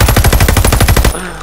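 Rapid automatic gunfire from a fast-firing gun in a first-person shooter video game, about a dozen loud, evenly spaced shots in a quick burst that stops abruptly and leaves a faint ringing tail.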